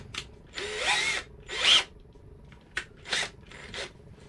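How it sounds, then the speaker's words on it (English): A power drill whirs in short bursts while drilling a pilot hole on a 2018 Subaru BRZ tS, starting and stopping several times, close up and fairly loud, with brief pauses between runs. "So let's drill that larger pilot hole now."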